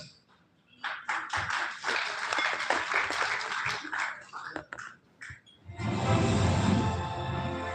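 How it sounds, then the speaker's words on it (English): Scattered clapping from a small audience at an award ceremony, sparse individual claps for several seconds with faint voices, followed by a denser, steadier noise near the end. "For the 21 people clapping, thank you very much."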